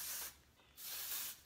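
Two short bursts of Moroccanoil dry texture spray misted onto a human hair topper, each a close, breathy hiss with a brief pause between them.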